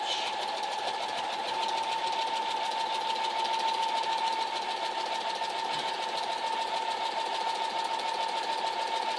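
A sewing machine stitching a quilt in the ditch during free motion quilting, running in a continuous close, steady mechanical whir with a rapid needle chatter.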